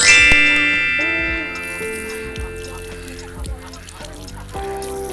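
Ducks at a feeding spot quack and honk loudly up close, with several overlapping calls and nasal cries that come in bursts over a quieter outdoor background.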